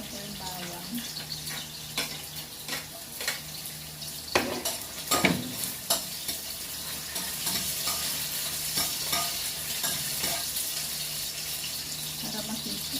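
Garlic sautéing in a pan for shabu-shabu, a steady sizzle throughout with repeated sharp clinks and scrapes of a utensil stirring against the pan, busiest in the middle; no speech over it.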